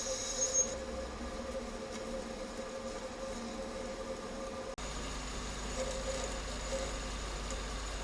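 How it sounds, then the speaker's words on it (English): A Schaublin 102N lathe turning copper for a watch part gives off a faint, steady motor hum with a thin high whine. The hum continues evenly, with one brief dropout partway through. "This machine, by the way, this lathe, is a Schaublin 102N."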